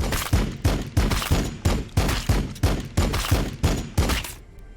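Warhammer 40K: Battlesector heavy bolter gunfire, a loud rhythmic series of about nine heavy booming shots at roughly half-second intervals, then fading out.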